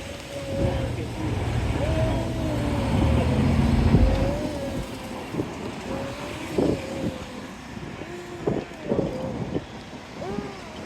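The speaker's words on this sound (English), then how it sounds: "there's a bit of wind" Wind buffets a microphone outdoors along a busy Kingston road near Half Way Tree, Jamaica, a rumbling gusty roar that swells and fades while someone speaks over it and traffic passes.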